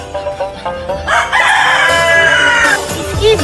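A chicken gives a few short clucks and then a loud, drawn-out crow that lasts over a second, close by, ending in a low thump.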